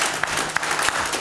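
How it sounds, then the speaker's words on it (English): A church congregation at a Sunday service claps for the Lord, a short, dense burst of many hands clapping together, with a few sharper claps poking out of the steady patter. "Give the Lord a hand clap."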